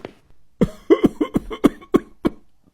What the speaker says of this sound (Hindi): क्या हुआ आपको? खांसी आ रही, मैं पानी लेकर आऊं?